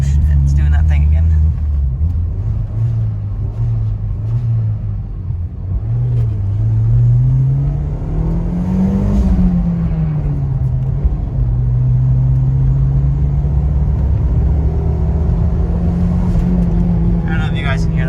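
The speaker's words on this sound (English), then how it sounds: "it still makes turbo noises, like when you let off the gas and stuff" Turbocharged engine of a 1999 Audi A4 wagon, heard from nearby as the throttle is released: a low steady rumble that swells and sags in pitch, with faint whooshes from the turbo and diverter and no talk.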